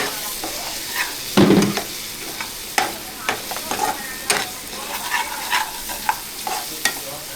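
Malvani chicken curry with masala fries in a pan under a continuous hiss as a spoon stirs it, with repeated clinks and scrapes and one louder clatter near the start.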